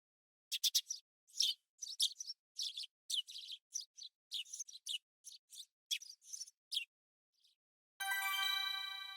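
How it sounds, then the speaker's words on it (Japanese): A sparrow chirps in a rapid string of short, high, clear tweets lasting several seconds, then falls quiet before a ringing electronic chime ends the sequence in an animated animal sound quiz. "スズメ。"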